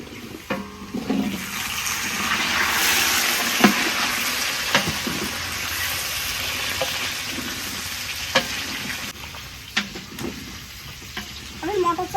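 Khichuri frying in oil in a pot, giving a steady close sizzle with intermittent stirring scrapes and clanks throughout.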